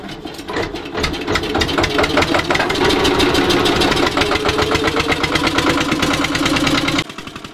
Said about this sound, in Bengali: আর বলতে বলতে আমাদের ফেরি স্টার্ট হয়ে যাচ্ছে